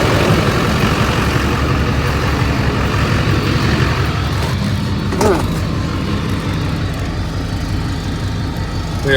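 A Duramax diesel truck engine idles with a steady low rumble throughout, close and loud, with a brief rise in revs partway through; no clear separate cranking burst stands out.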